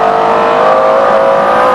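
A car engine revs hard while cornering through a long bend on a race track, a loud, sustained high-pitched howl that rises slowly in pitch, heard close up with faint tire noise underneath.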